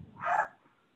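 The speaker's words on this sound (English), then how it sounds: "Sorry about my dogs." A single short dog bark rings out indoors, fairly close, then fades into quiet room tone during an online meeting.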